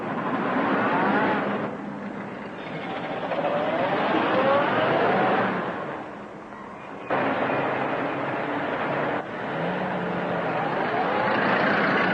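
A car in a 1934 film serial roars off, its engine a loud continuous rumble rising and falling in pitch as it pulls away, over old soundtrack hiss.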